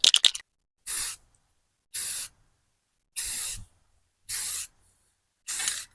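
Short bursts of tan aerosol spray paint hiss onto a rifle, five separate blasts of about half a second each, evenly spaced with quiet pauses between, close and fairly loud after a few quick clicks at the start.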